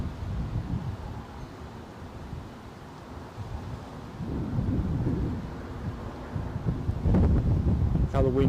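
Strong storm wind gusts roaring across the airport runway at Newcastle during Storm Kathleen, with an Embraer 170 nearby; the rumbling gusts are loud and continuous, swelling toward the end, with buffeting wind noise on the microphone.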